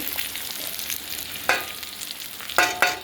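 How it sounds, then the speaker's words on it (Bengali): Ivy gourd (kundri) frying with salt and turmeric in a village kitchen, a close steady sizzle with a few louder crackling bursts as the pieces are stirred. "এটাকে ভেজে নিচ্ছি"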